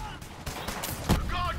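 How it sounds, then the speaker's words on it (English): Rapid automatic weapon fire from a machine gun in the video game Borderlands 3, a short burst of sharp overlapping shots with game effects, mixed with a voice. "I got a machine gun now"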